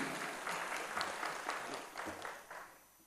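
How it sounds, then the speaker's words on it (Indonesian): Modest audience applause at a gambus misri music workshop in Jombang, a fairly faint, uneven patter of individual claps that thins out and fades toward the end. "Sekali lagi boleh tepuk tangan untuk Bapak Nasrul Ilahi."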